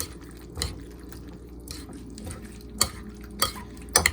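Tuna ceviche being stirred in a bowl: soft wet mixing with scattered clinks of a utensil against the dish, a few sharper taps toward the end.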